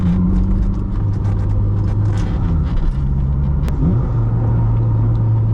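A 400hp Toyota MR2 with a light flywheel drives along, its engine a steady low rumble whose pitch climbs and drops between revs, heard from inside the car with no talk.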